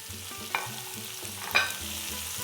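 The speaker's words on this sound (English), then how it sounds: "Ooh, the sizzling already." Leeks and mixed vegetables sizzle steadily in a pot for a fish stew, with quiet frying crackle and two sharp stirring scrapes close by, no voices.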